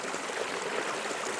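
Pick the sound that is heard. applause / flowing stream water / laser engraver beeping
flowing stream water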